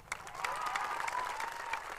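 Applause from a crowd at a protest march rally, steady clapping that is fairly distant and moderately loud and lasts throughout.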